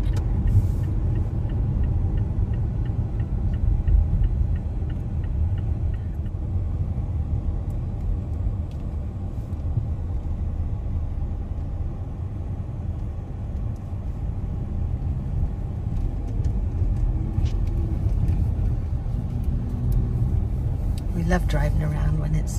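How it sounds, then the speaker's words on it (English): A car drives along a road at sunset, heard from inside as a steady, low engine and tyre rumble that holds evenly throughout. "Love driving around when it's sunset."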